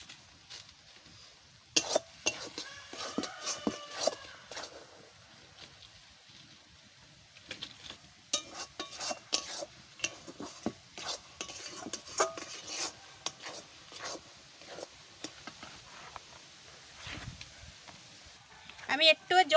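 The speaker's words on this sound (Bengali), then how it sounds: "এই সাইডে একটু নাড়া দিয়ে আসি" Jackfruit pitha batter made with milk and jaggery is stirred in a pot, giving irregular scraping and clinking of a utensil against metal, with bursts of activity and someone talking intermittently throughout.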